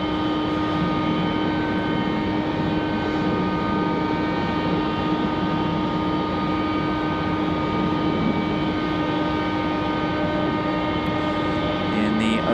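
A Frontier Airlines jet in green livery takes off from runway 5 left at Raleigh-Durham International, a steady broadband engine roar with sustained tonal whine holding loud and constant throughout.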